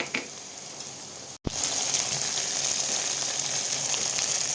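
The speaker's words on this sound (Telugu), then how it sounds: "ఫ్రెండ్స్ ఉల్లిపాయ ముక్కలు వేగుతున్నాయి" Onion pieces fry in a pan as shrimp curry is cooked, a continuous soft sizzle and crackle broken by a short clatter just after the first second, then settling back into an even frying hiss.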